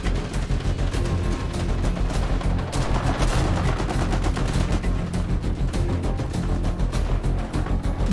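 Dense, continuous anti-aircraft gunfire from 1944 German self-propelled AA guns shooting at A-10 Thunderbolts in War Thunder, a rapid unbroken rattle of cannon bursts layered with booms, loud and steady throughout.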